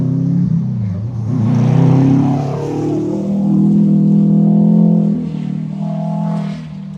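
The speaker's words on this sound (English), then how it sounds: "Just so you can watch some race cars." A rally car on the gravel Maryhill stage of the 2025 Oregon Trail Rally accelerates past, a loud engine drone rising and falling in pitch as it passes close by.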